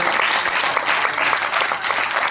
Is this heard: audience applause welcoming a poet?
yes